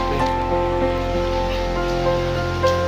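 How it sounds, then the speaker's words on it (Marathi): Heavy rain pours down during a windstorm, a dense, steady rushing roar with no talking, continuous and loud throughout. "पाऊस जाम जोरात आहे."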